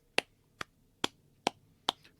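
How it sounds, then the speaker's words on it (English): A person gives a golf clap: five soft, sharp claps spaced evenly about half a second apart, close and quiet with no talking. "Let me give him golf claps."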